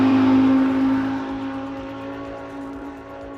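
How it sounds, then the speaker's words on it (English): Race car engine in the RaceRoom sim racing game during a Nurburgring endurance race, a loud sustained tonal drone that sags slightly in pitch and fades a little over a few seconds, with no voices. "Man, that car sounds good."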